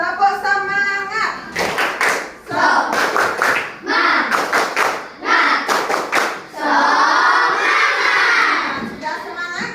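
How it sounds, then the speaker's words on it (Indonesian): Schoolchildren in a classroom doing a tepuk semangat spirit clap, loud rhythmic bursts of group clapping in patterned beats alternating with chanted shouts, ending in a sustained shouted cheer. "Tepuk semangat."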